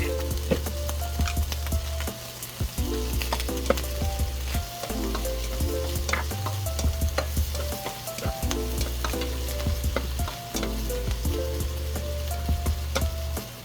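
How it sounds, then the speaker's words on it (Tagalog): Pork and garlic sizzling and frying steadily in a pan, with scattered stirring clatters and spatula scrapes over a constant loud hiss, no one talking. "sigilid lang natin itong ating pork"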